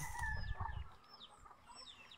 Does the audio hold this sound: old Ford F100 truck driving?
no